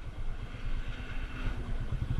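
A motorcycle engine rumbles steadily at close range with a low, chugging pulse and some clatter, continuous over a couple of seconds with no voices.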